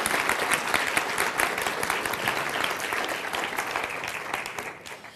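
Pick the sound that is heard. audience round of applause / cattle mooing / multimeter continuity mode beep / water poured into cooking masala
audience round of applause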